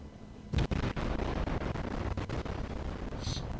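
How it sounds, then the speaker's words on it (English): Rapid booming salvos from a Clemson destroyer's guns in World of Warships firing on an enemy destroyer, a loud burst followed by repeated heavy thuds and rumbling, with no talking. "I can put a bit of fire into that destroyer"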